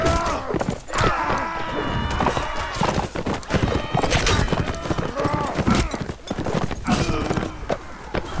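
Horses gallop and neigh in a Mount and Blade Warband battle, with a dense stream of clattering hoofbeats and several whinnies throughout, close and loud, while a voice talks over the action.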